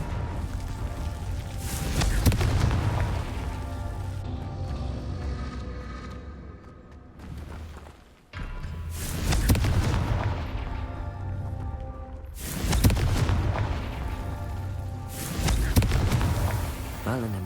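Confringo blasting spell explosions in Hogwarts Legacy, several heavy booming blasts with rumbling decay, repeated at intervals of a few seconds among game sounds.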